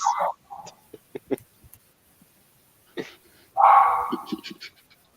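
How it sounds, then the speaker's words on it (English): A pet dog in a home during a live stream gives a few short, sharp barks, clustered together at close range, with quiet gaps between them. "Sorry, that's my dog, guys."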